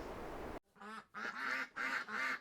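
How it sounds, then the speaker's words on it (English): Several ducks quack close by on an icy canal at Braunston moorings, in a few rapid bursts of nasal calls separated by short pauses, with no talk. "And there's quite a few ducks there, as you can see."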